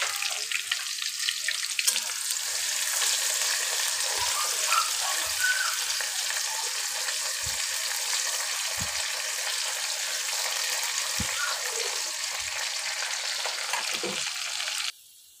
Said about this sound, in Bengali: দেখেন পেঁয়াজটা সব কিছু উপকরণগুলো আমার কি সুন্দর একটু ভাজা ভাজা হয়ে এসেছে